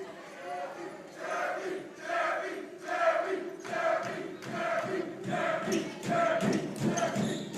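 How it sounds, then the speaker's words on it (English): A crowd in the Dome at a women's volleyball match chants and cheers in a steady rhythmic pattern of repeated bursts, loud and sustained throughout. "Looks like they're cheering on Jeremy."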